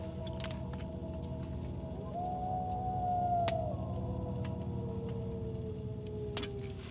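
Two thin, drawn-out howls overlap at a distance, one gliding slightly upward then tapering off, over a constant low background rumble.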